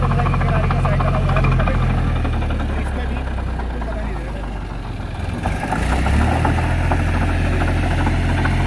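A John Deere 5050E tractor engine runs steadily at high revs, pulling a Lendforce rotavator through soil, a continuous loud droning rumble with a brief dip in the middle before it rises again.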